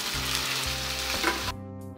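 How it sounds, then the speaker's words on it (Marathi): Onions fry in a pan with grated potato, a dense sizzling hiss under background music that cuts off abruptly partway through. "आता यामध्ये आपण खिसून घेतलेला बटाटा टाकून घेऊ।"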